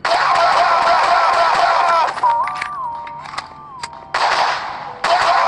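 Gunfire in the horror video game TV Head: Horror Zone, with sharp shot bursts and tonal game sounds; the loud stretches break off midway, then a quieter tonal passage follows before the bursts return.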